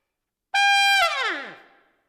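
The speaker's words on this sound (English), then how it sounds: "push through it and make a lot of noise and rip through the fall like this." A swing-style jazz trumpet holds a loud, brassy note, then rips powerfully down through a long fall, the pitch sliding steadily lower while staying strong before tailing off.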